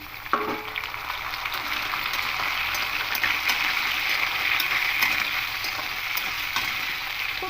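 Potato and carrot pieces with eggplant and pumpkin frying in oil for a vegetarian pui shak chhechra, giving a steady, close sizzle with faint stirring clicks throughout and no talking.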